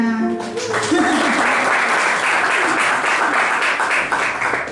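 Loud, dense applause from a large crowd at a Christmas youth church service fills the whole clip, steady and sustained, with a voice briefly audible at the start.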